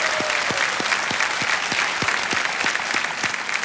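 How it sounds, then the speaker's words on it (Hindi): Studio audience applause on a televised Hindi quiz show, a steady dense wash of clapping with sharp individual claps standing out, loud and close throughout with no voices. "तालियों के साथ एक बार इनका स्वागत फिर से किया जाए।"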